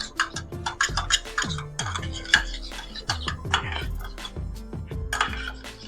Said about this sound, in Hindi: ये देखें अच्छे तरीके से इसको चम्मच के साथ मिक्स करें